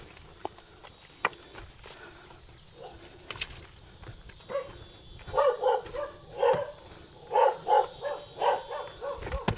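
Dog on a remote mountain homestead barking a few times at a distance, a short series of rhythmic barks after scattered clicks and rustles.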